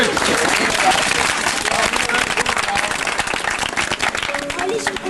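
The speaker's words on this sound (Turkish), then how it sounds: "Hadi yeğenden alkış." Loud, dense applause from a crowd at a 50th wedding anniversary celebration, sustained clapping throughout with a few voices mixed in underneath.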